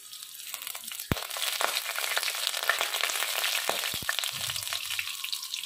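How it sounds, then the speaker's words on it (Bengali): Chopped garlic and nigella seeds fry in hot mustard oil with a continuous crackling sizzle, punctuated by a few sharp clicks of a spoon against the pan. "রসুনটা অল্প একটু ভাজা ভাজা হবে।"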